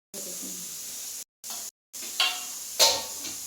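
Food frying in a wok (kadhai) sizzles steadily while being stirred, with two brief gaps and sharper scraping bursts near the end, close and moderately loud.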